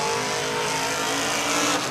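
Off-road race trucks and buggies launching off the start line at the Finke Desert Race, engines roaring loud and close with a sustained high revving drone.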